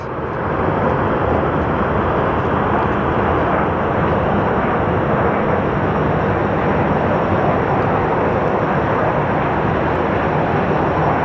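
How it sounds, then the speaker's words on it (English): A Southwest Airlines airliner lands at Phoenix Sky Harbor Airport, a loud, steady broadband jet roar that holds constant throughout, close and unbroken, with no voices over it. "let's take a look at this landing by the Southwest"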